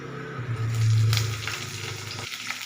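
Chopped vegetables such as beans, carrot and potato sizzle in hot oil with cumin seeds, bay leaf, onion and chili, a steady close frying hiss that swells briefly, with faint stirring clinks.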